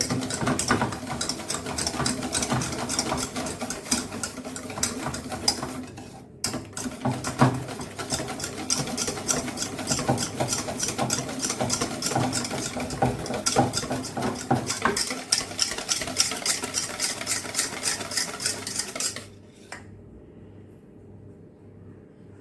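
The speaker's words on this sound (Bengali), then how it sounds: "এটা ঘিয়ের সাথে টক দইয়ের সাথে আর গুঁড়ো দুধের সাথে ভালো করে মিশিয়ে নেব" Semolina mixed with ghee, sour curd and milk powder in a bowl, a rapid, continuous scraping and tapping of a spoon that runs steadily for most of the clip, then stops abruptly, leaving quiet.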